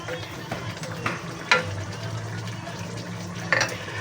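Chicken, tofu and shrimp stirred together in a pan, a few soft scraping strokes and light sizzle at a moderate level, spaced about a second apart, with no talk.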